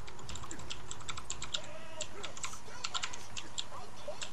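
Rapid clicky typing on a Corsair K70 computer keyboard, irregular bursts of sharp keystrokes close to the microphone, with faint talk in the background.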